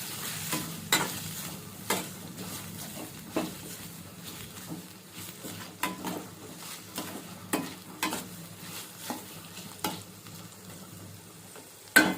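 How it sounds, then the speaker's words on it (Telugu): Chopped onions fry in oil under a soft, continuous sizzle, punctuated by regular scraping strokes of a spoon against the pan every second or so, with a sharper knock at the end. "కట్ చేసుకున్న ఆనియన్స్ ఆయిల్లో వేసేసుకొని మంచిగా ఫ్రై చేయండి"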